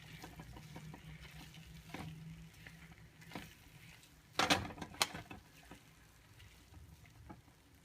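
A spoon stirring a mara marala upma mixture in a pan, soft scraping and faint sizzling with a couple of louder clattering scrapes partway through, fairly quiet overall.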